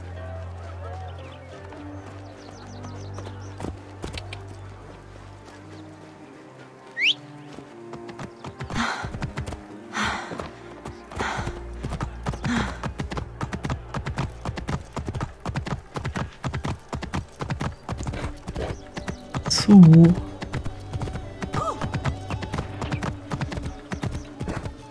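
A horse gallops in the video game Assassin's Creed Origins, its hoofbeats a steady, close clip-clop rhythm that runs throughout, with a brief whinny near the end over game music.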